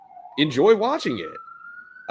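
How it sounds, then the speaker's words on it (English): A siren sounds in the background, a faint steady wail rising slightly in pitch that runs beneath someone talking close by. "apologies if you hear a siren in the background."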